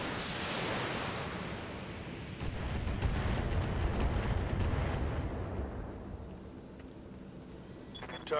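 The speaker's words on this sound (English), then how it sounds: "we'll just put one flight of LRMs in" Battletech LRM missile volley striking, a rushing roar that swells and rumbles for several seconds, then fades into a quieter low wash.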